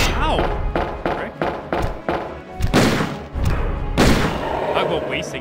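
Gunfire in Resident Evil 2 comes as a rapid series of punchy shots, about six in quick succession, then a couple of heavier booming blasts with rumbling echoes, all close and loud.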